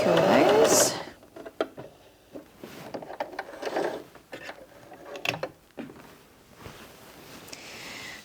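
A Bernette B35 sewing machine stitching zigzag, a loud burst of mechanical stitching at the start followed by quieter clicks and handling noises as a person talks.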